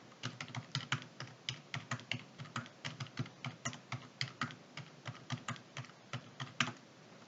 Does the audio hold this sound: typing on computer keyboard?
yes